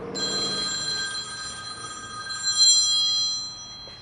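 A telephone ringing nearby in a workshop during cabinet assembly, a bright electronic trill sustained for about three seconds before fading, with no talking.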